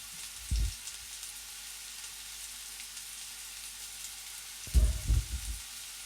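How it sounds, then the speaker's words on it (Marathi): Semolina-coated fish pieces laid into a hot pan over medium heat, with a steady soft sizzle of frying throughout and a few louder low thuds and crackles as pieces go in, close and without talk. "त्यातला एक एक पीस उचलून रव्यामध्ये घोळवून तव्यामध्ये घालून घ्यायचं आहे"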